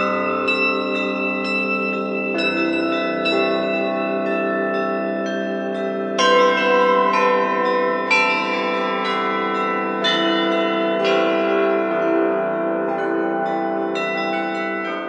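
Church bells of a Catholic church in Minas Gerais ring out steadily and loudly, several bells sounding overlapping strokes with long sustained resonance, a fresh round of strikes entering about midway, with no voices.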